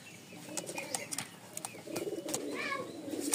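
A male tumbler pigeon coos softly at a bird dealer's, with low throaty coos under faint chirps and rustling nearby.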